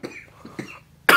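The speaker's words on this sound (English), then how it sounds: "Why is it making me cough?" A few short, raspy coughs close by after eating an extremely hot chocolate bar of about 3 million Scoville units, spaced irregularly, followed by a sudden louder burst of noise at the end.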